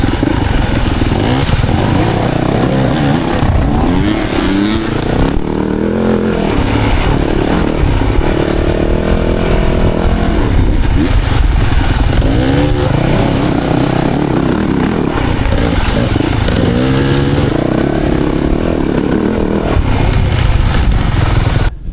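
Motorcycle engine revving and accelerating during riding skills drills in Arizona, loud and close, with repeated throttle surges and falling pitch sweeps as the rider shifts, continuous throughout.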